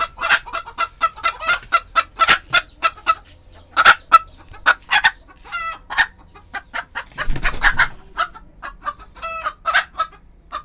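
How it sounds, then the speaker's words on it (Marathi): Free-range country chickens clucking and calling close by inside an egg-laying poultry shed, a dense run of rhythmic clucks with an occasional crow, and no talk. "मग इथं कोंबड्या अंड्या देतात."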